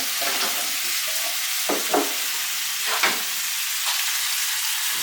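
Stew chicken ingredients frying and being stirred in a pot with a little oil, a steady close sizzle broken by several scraping stirs of a spoon against the pot.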